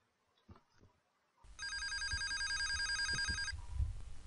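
A telephone rings in the video game Facade, a steady electronic ring lasting about two seconds, with soft background noises before and after.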